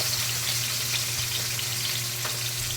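Aromatics sauté in cooking oil, a dense, even crackling sizzle that fills the clip at close range, with a faint low hum underneath and no speech.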